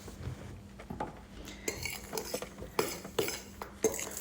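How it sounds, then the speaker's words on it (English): Dry spice powders, including mustard powder for mango pickle, are stirred in a bowl with a spoon, giving irregular soft scrapes and clinks of metal against the dish, close and alone. "take all these dry powders, mix into a bowl and mix them very well."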